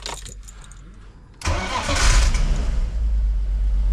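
A BMW E46 converted from automatic to manual cranks briefly and fires, then settles into a steady, close idle with a slight rise in revs.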